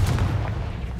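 The Confringo fire spell in Hogwarts Legacy bursts as a dense, booming blast with a low rumbling tail, loud and close over about a second, with no talking.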